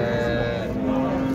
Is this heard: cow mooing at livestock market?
yes